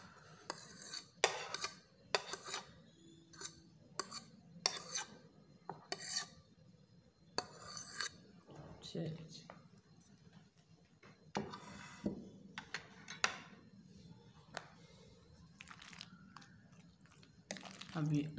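Macaroni salad with onion mixed in a bowl, heard as repeated scraping and clinking of a spoon against the dish in irregular bursts, fairly close, with a voice talking now and then.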